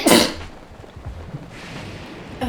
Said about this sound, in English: There's a sneeze.